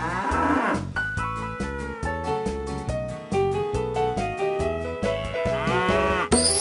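Cartoon cows moo over bouncy, rhythmic background music, with short lowing calls scattered through the music and a brighter sound near the end.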